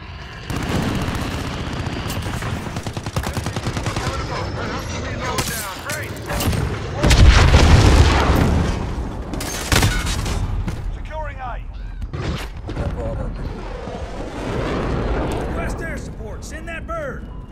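Dense bursts of automatic gunfire and booming explosions from a Call of Duty: Modern Warfare match, loud and continuous with a heavy low-end blast around the middle, mixed under radio-style voice chatter.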